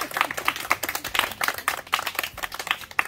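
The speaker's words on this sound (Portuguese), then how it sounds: "uma salva de palmas especial" An audience at a birthday celebration claps in quick, uneven bursts, individual sharp hand claps close by and fairly loud, with faint voices underneath.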